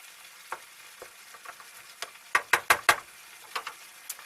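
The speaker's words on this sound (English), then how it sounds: "Smash them up a little bit, stir it in." Tinned tomatoes are stirred and mashed into a bolognese sauce in a pan, giving a low sizzle broken by wet scraping strokes, with a cluster of louder stirs near the middle.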